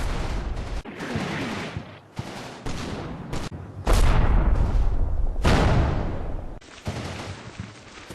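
Artillery barrages in the Combat Mission Normandy war game: loud, close booms and roaring blasts follow one another in quick succession, some long rumbling detonations overlapping, with no voices.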